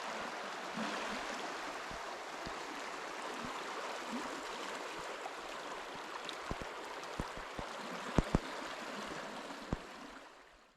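The Gros Ventre River near Grand Teton flowing, a steady broad rushing wash of moving water heard from the bank, with a few sharp clicks and knocks near the end and no talk.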